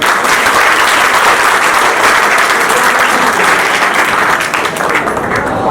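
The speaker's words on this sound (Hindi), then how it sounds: "एक बार उनके नाम से जोरदार तालियां।" Loud, sustained applause from a crowd at a student career guidance programme in Charkhi Dadri, Haryana, dense clapping that holds steady throughout and thins slightly near the end.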